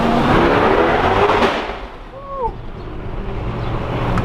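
A C8 Corvette engine on its stock exhaust, a loud, steady engine roar with wind rush that dips briefly and then picks up again, with a short speech-like sound midway.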